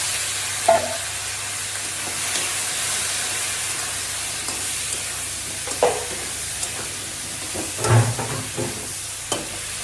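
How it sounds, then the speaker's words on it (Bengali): Steady sizzling of eggplant and potatoes frying in oil, with occasional scrapes and clinks of a spoon stirring the pan, close and continuous without talk. "তো আলুটা বেশ ভাজা ভাজা হয়ে গেছে, এখানে আমি কেটে রাখা বেগুনগুলো দিয়ে দেবো।"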